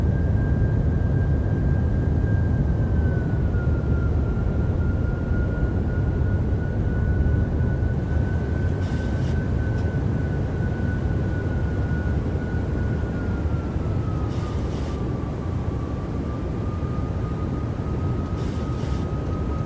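A BahamasAir airliner's engines drone steadily during an early-morning departure from Fort Lauderdale in Microsoft Flight Simulator. Under a constant low roar, a thin whine dips slightly in pitch, and a few faint clicks are audible.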